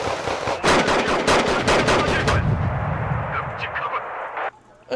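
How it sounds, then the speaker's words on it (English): In the video game Wargame: Red Dragon, a dense burst of rapid, heavy gunfire and artillery blasts hammers close and loud for a few seconds, then fades into scattered distant reports and a low rumble. "we're already firing artillery on that position"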